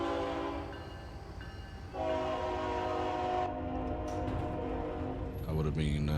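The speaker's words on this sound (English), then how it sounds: "We narrowly missed that train." A BNSF train rumbling past with its horn sounding in long sustained blasts, loud and close over a steady heavy rolling drone, with voices talking briefly near the end.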